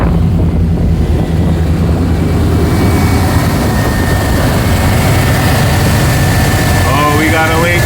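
A Chevrolet Suburban engine idling and dropping in speed, a steady low rumble filling the recording, loud and close, with a faint whine rising near the end.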